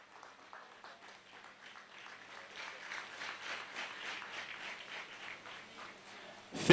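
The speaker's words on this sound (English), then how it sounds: "continue clapping, continue clapping." An audience claps hands at a regional girls' summit, starting faint and sparse and then building into steady, moderately distant clapping, with a sharp louder burst at the very end.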